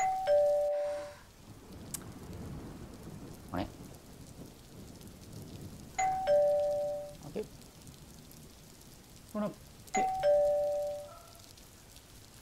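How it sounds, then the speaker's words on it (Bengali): A two-tone doorbell chime rings three times, several seconds apart, over soft steady rain, with a brief voice speaking. "কলিং বেল বাজতেছে তো বাজতেছেই"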